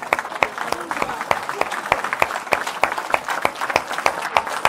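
A church congregation claps together in a fast, steady rhythm, a dense wash of applause that fills the room evenly and carries on without a break.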